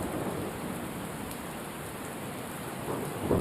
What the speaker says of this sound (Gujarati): નવસારી શહેરમાં ફરી એક વખત ધોધમાર વરસાદ વરસી રહ્યો છે